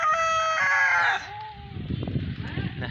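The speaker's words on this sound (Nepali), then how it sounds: "यो चाहिँ कडकनाथ कुखुरा भन्छ यो चाहिँ कालो कुखुरा" A Kadaknath black chicken at Budhanilkantha lets out a loud, close, tonal call lasting about a second, followed by softer scattered clucks and rustling.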